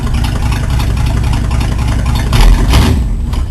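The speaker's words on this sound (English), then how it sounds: "Starter button was under the clutch. And that's how you start them." A Nash car engine, a rat-rod build started by a starter button under the clutch, runs at a steady, loud idle with low rumble, briefly swelling louder near the end.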